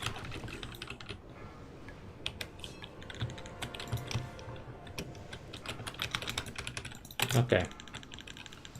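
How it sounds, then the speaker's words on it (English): Fast typing on a computer gaming keyboard clatters in quick, uneven bursts of key clicks close by, with a short spoken word partway through. "So I need to have like a special silent gaming keyboard."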